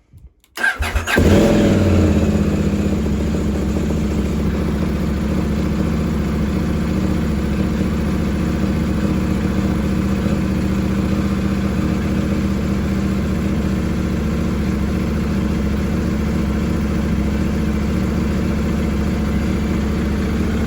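A Husqvarna Svartpilen 801 motorcycle with a FuelX Pro unit fitted starts up with a quick crank, then its engine runs loud and close, idling and revving in a steady, continuous drone with no talk.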